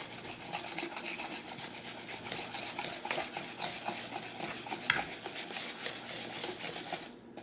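Thick batter for fried Oreos being stirred in a bowl, giving a soft, wet, rhythmic scraping and slapping that repeats steadily, close but fairly quiet.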